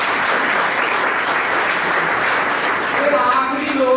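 Sustained applause from the audience at the Bathinda Film Festival, honouring Pran Sabharwal, a 94-year-old theatre elder. The clapping is dense and fairly loud and holds steady throughout, with faint voices emerging near the end.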